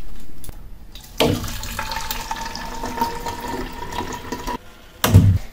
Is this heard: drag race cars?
no